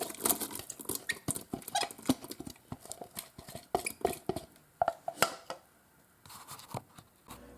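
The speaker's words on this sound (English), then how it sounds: "Go ahead and dump your onions in there." Chopped onions dumped into the pot of a Ninja Foodi pressure cooker, a burst of close clattering taps and scrapes that thins out toward the end, with no speech.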